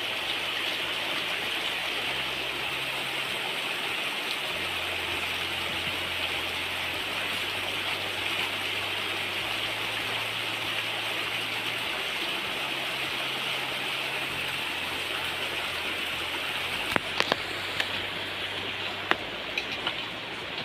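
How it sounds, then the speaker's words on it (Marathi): A continuous, even wash of water flowing down an earthen field channel beside farmland, moderately close and unbroken for the whole stretch, with a few faint clicks and knocks near the end and no talking. "इथून असं खाली पाणी जातं आहे"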